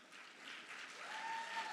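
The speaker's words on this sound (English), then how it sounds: "let's give a round of applause for Sara and Sreshtha," An audience at a Bharatanatyam arangetram dance recital claps in a steady, fairly faint wash of applause that builds slightly toward the end.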